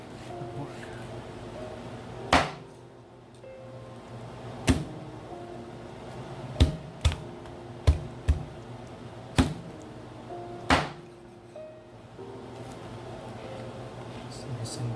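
A knife cuts through scored, crispy roasted pork on a board, giving sharp cracking crunches spaced irregularly over steady low background hum, fairly close and clear.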